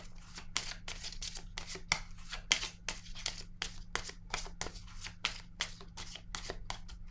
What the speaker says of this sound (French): je vais piger une carte rose maintenant